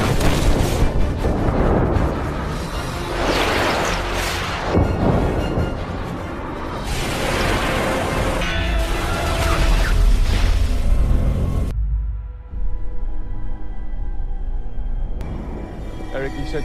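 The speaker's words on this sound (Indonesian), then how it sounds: "supaya rudal-rudal tersebut meledak di udara" Deep booming blasts and rumbling explosions of missiles bursting in the air, from the film X-Men: First Class, roll out over dense, loud background noise, with voices and a swelling score beneath; a sudden drop-off near the end.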